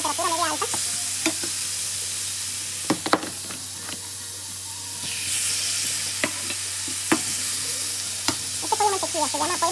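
Chicken pieces for butter chicken fry in a pan over medium-high heat, giving a steady close sizzle broken by sharp pops and crackles, with no voices over it.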